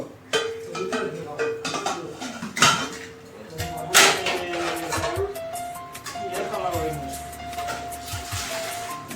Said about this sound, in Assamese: বাচন ধুই আছো চাফা হৈছে